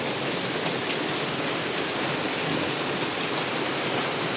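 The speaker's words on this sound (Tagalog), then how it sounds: "Walang tigil ang ulan ngayong umaga." Heavy, unbroken rain pouring down on a morning, close and steady, a dense hiss of drops drumming on surfaces with no pauses and no voices over it.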